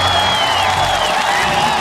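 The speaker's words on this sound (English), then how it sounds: "One more final round of applause" An audience at an opening ceremony breaks into applause, a dense, steady wash of clapping with a few whoops, sustained and fairly close throughout.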